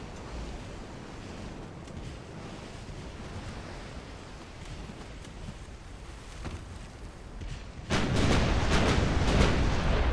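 Naval guns fire in the warship game Ultimate Admiral: Dreadnoughts over a low ocean and wind wash, with scattered distant booms followed by a louder, denser barrage near the end.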